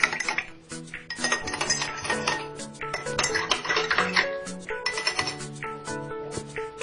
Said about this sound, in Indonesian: Mari kita aduk.